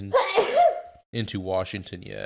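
A single loud, close sneeze bursts out at the start, followed by a short pause and then someone speaking clearly.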